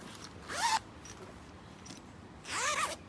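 A zipper on a handmade sewn pillow is pulled in two quick strokes, one opening and one closing, each a short bright rasp separated by quiet with faint handling noises.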